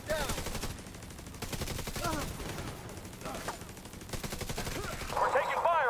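Bursts of automatic gunfire ring out in a firefight in the video game The Division 2, rapid volleys coming in waves with brief pauses, mixed with game effects and a voice over the radio.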